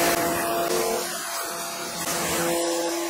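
Wall-mounted Giraffe Tools Grandfalls pressure washer rinsing garbage cans, a loud steady hissing spray with a motor hum that dips briefly midway and then returns at full strength.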